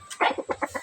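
Backyard chickens clucking close by, a short run of four or five quick clucks in a steady rhythm.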